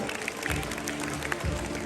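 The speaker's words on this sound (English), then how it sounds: "Let's give them a huge round of applause for their amazing effort." Applause for students at a Christmas celebration, a steady dense wash of clapping lasting the whole moment, with faint voices mixed in underneath.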